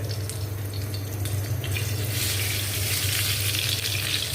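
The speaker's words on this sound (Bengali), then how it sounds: "এটা আমি এই ফ্রাই প্যানে ভাজবো, সুন্দর করে ভেজে নিতে হবে।" Steady sizzling of eggplant pieces frying in a hot frying pan, a constant crackling hiss that grows brighter partway through, with no voices.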